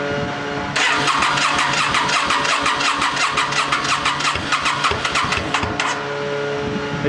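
A 2008 Yamaha V-Star 650 motorcycle cranks for several seconds with a rapid, loud, even pulsing. It catches and settles into a steady low running hum close by, with no voices.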